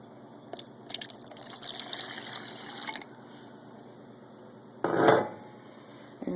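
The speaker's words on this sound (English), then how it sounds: "let's go ahead and add the rest of my chili water." Chili water poured into a pot while making New Mexican style red chili: a faint liquid trickle with light clinks of pots and utensils, then a louder, short splashing pour near the end.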